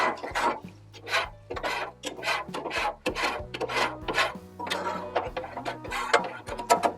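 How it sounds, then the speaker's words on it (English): A metal scraper is pushed repeatedly across a hot Blackstone griddle after cooking bacon-fried corn, giving a steady series of close, rasping strokes in an uneven rhythm, with a low hum underneath and no talking. "while the griddle's still hot, always come in here and scrape it down."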